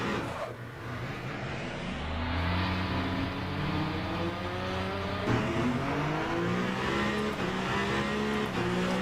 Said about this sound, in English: as you're trundling down the pits, the engine roars into life